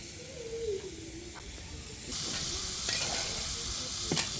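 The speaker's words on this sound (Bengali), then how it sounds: "মাছ ভাজা হচ্ছে" Fish frying in a pan, a steady loud sizzle that swells partway through, with a few sharp crackles and pops and no talking.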